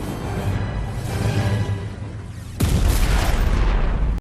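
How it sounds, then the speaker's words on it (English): Explosion in the video game Skylanders Trap Team: a loud, deep boom bursts in partway through over a dense rumbling game soundtrack and keeps roaring to the end, with no talking. "Explosion!"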